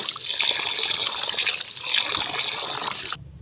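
Tap water runs steadily over flour dough being rinsed by hand in a bowl for Kashmiri paneer, a close, continuous splashing gush that stops abruptly at the end.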